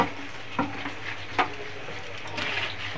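Chicken stirred with black pepper powder in a pan for chilli chicken, a low continuous sizzle broken by two sharp spoon scrapes against the pan and a few lighter clinks near the end.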